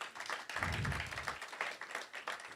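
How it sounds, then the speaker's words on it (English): An audience at an art auction applauds, a dense patter of many hands clapping together, fairly faint and steady throughout. "give yourselves a round of applause for that"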